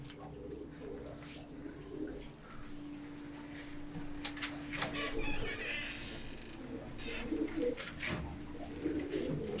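Pigeons in a coop coo softly and intermittently, with rustling and a low hum in the background and occasional wing flutter, faint and close.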